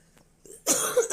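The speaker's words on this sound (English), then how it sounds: "Now I'm getting a dry cough." A single dry cough bursts out close by, short and harsh, after a moment of near silence.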